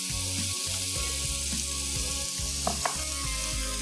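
Masala frying in a pan for ginger masala chops, a steady broad sizzle running the whole time with a few brief scraping stirs near the end, close and fairly loud with no talk.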